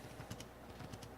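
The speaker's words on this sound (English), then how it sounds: "seeing different people type on this keyboard" Fast typing on a compact mobile-style keyboard: quiet clusters of light key clicks in quick bursts, close and alone, with no voices.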